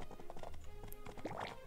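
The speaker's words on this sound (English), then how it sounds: "Oh, I have a horse too now." Horse hooves clip-clop in the video game My Time at Portia, a quick run of light patter-like steps over a faint background, with a brief whinny-like tone near the end.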